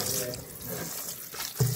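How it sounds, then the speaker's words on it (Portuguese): Tap water runs steadily into a kitchen sink as linguine pasta is rinsed, a soft continuous splashing rush with a brief louder splash near the end. "Deixa eu lavar de novo ele aqui, Lê."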